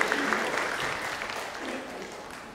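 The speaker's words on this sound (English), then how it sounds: "Put a round of applause for all of you and NIFT alumni in the room for being here." Conference audience at a fashion forum for NIFT alumni applauding, a steady spread of many hands clapping at moderate, slightly distant level, gradually easing toward the end.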